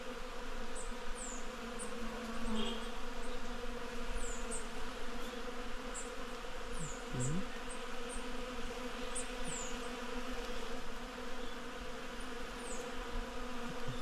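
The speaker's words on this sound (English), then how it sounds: "So much bees in this tree." A continuous swarm of bees in a tree hums steadily overhead, a soft even drone with faint chirps of birds scattered in the distance.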